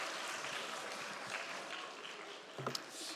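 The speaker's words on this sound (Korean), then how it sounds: "박수로 축복하겠습니다." Steady applause from a large church congregation fills the space, a continuous crackle of many hands clapping at a distance.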